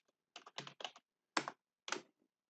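Someone types a command on a computer keyboard at a GPU server, giving several short clusters of quiet, close keystrokes separated by brief pauses.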